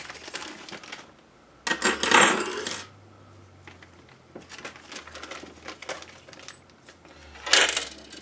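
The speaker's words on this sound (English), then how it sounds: "M8 screws from the accessory bag." M8 screws poured from an accessory bag while unboxing and assembling a FormBot T-Rex 2+ 3D printer: two loud bursts of small metal screws clattering and jingling together, one long spill and a shorter one later, close by.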